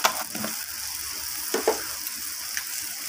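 Garlic paste, ginger paste, onions and potatoes sauté in a wok with a continuous bright sizzle and a few soft stirring scrapes, close and steady, no voices.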